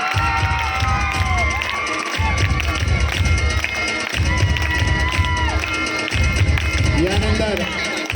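An audience applauding at a school annual function, dense continuous clapping mixed with crowd noise and children's shouts, interrupted by short gaps, with a voice speaking over it.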